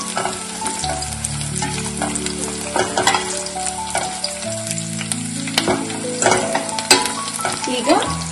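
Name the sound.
frying cut green chillies in a pan for Gongura chicken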